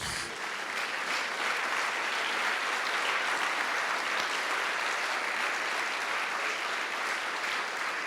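A congregation applauds in church, a continuous wash of clapping held at an even level from start to finish.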